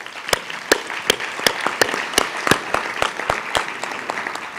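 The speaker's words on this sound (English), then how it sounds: "Round of applause." Scattered audience applause at a high school board of education candidate forum, a modest crowd clapping with a few sharp, loud individual claps standing out close by over a softer, steady patter.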